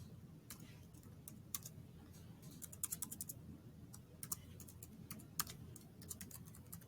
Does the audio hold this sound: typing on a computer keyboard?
yes